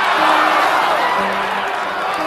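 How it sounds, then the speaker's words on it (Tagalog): A dense crowd roaring and shouting outside a cockfighting arena, a loud, sustained wash of many voices with no single voice standing out. "Muling naglikha ng nakabibinging sigawan ang mga tao sa labas ng sabungan."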